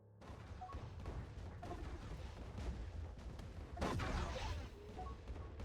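A fleet bombards a planet in the space strategy game Distant Worlds 2, producing a faint, continuous rumble of distant blasts and booms with sharper impacts scattered through it, one heavier hit standing out near the end.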